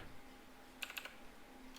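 A computer keyboard taps out a quick burst of three or four clicky keystrokes while MicroPython MQTT client code is typed, faint and close against a quiet room hum.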